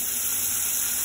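Two tablespoons of butter sizzling in a pan as the start of a popcorn syrup, a steady, bright, close hiss with no talk.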